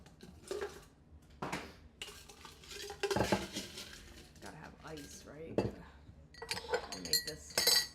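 A coffee drink being stirred quickly in a cup, with a spoon clinking and scraping against the sides in short uneven bursts, close and moderately loud, with faint voice nearby.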